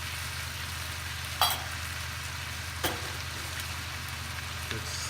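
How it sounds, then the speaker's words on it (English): Pork humba with black beans sizzles steadily in a pan, a constant frying hiss with a low hum beneath and a couple of brief scraping clatters as it is stirred. "Let's give it a stir."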